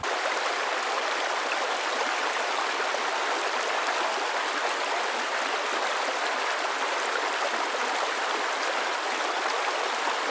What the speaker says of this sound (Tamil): ஒரு பியூட்டிஃபுல்லான ஒரு ரிவர் வந்து குட்டி ரிவர் தான் ஒன்று ஓடிட்டுருக்கு